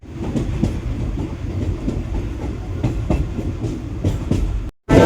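A train runs steadily along the rails on a first-time passenger journey, its close, continuous rumble and rhythmic wheel clatter filling the cabin before cutting out abruptly near the end.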